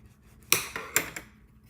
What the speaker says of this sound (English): Bring in our bone folder and give it a rub.